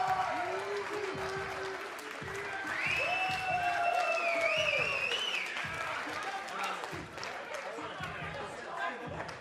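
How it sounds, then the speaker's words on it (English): Steady applause and cheering from a large crowd at the Call of Duty Premiership 2016 grand final fills the space, with a voice speaking over it and some whistling tones rising above the clapping. "a round of applause for your winning team"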